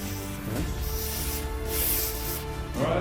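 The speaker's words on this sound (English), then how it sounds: "Also make sure to spray the in-between hinges, have it lubricated." WD-40 spray hisses in several short bursts onto garage door hinges, each spray close and sharp, with brief pauses between them.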